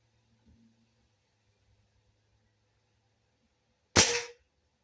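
Webley VMX .177 spring-piston air rifle firing a single shot: one sharp, loud crack with a brief spring twang, standing alone after near silence.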